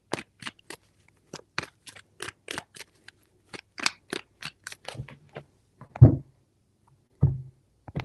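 Tarot cards are shuffled in a series of crisp riffling flicks and taps, close and quiet, with short pauses and a few heavier thumps near the end.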